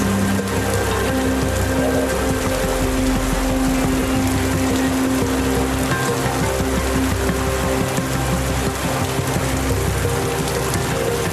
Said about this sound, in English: we dance gratefully while the gentle, dousing rains continue for as long as needed